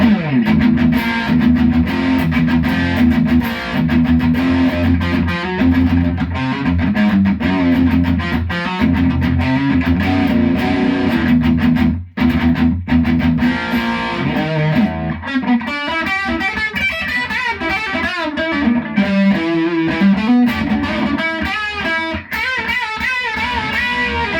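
Heavily distorted electric guitar, a Harley Benton, playing continuously, thick and saturated chords at first, then busier riffing and bends, loud and up front.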